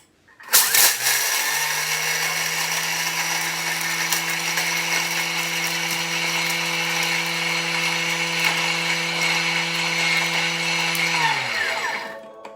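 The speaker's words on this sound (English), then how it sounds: "pop the measuring cup and grind this down. So it's going to be noisy for a little bit." A Thermomix grinds sugar or salt scrub ingredients at speed 10, starting abruptly into a loud, steady high-pitched whirring roar that holds for about ten seconds before winding down, with no talking.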